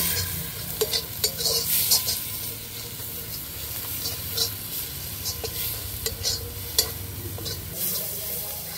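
Chili powder and turmeric are stirred into frying masala for Bengali shrimp and pumpkin curry, a steady sizzle broken by repeated scraping strokes of a spatula against the pan, close and without voices.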